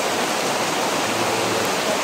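Rain falling outdoors during a journey: steady, loud, dense hiss of rainfall filling the whole clip with no pauses, close to the microphone.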